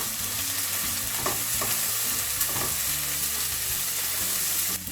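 Chili paste fries in a pan with a constant loud sizzle while a spoon stirs it, adding soft scraping strokes at an irregular pace.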